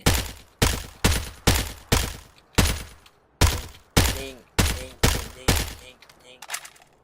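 Gunfire in the video game PUBG: about a dozen sharp, loud shots fired one at a time at a fairly even, rapid pace, each one decaying quickly. A burst of quieter clattering follows, and a voice can be heard briefly.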